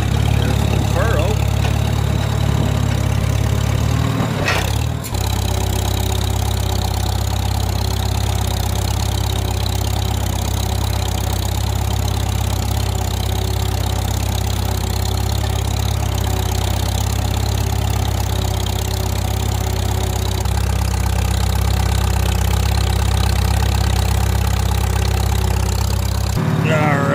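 An antique Farmall tractor engine runs steadily while plowing a field, a loud, low, chugging drone that holds through the whole stretch with a brief mechanical clunk near the start and a voice speaking over it.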